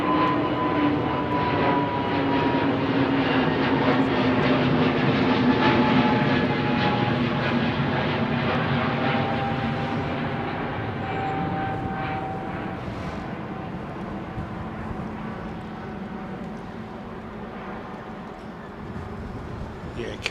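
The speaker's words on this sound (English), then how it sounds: "going to taxi across the active runway and then taxi down Sierra" Airplane taxiing across the active runway at London Heathrow Airport, a loud, steady engine roar and whine that eases slightly over time, with people talking over it.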